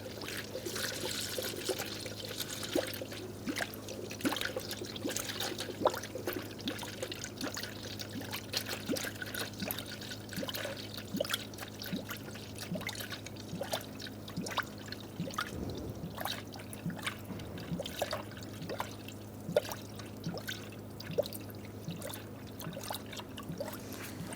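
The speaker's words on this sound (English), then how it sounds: "Now we can add our coolant." Coolant trickles and pours steadily into the radiator of a 1978-1987 Chevrolet El Camino, a soft continuous liquid flow with small drips and clinks, close and quiet throughout.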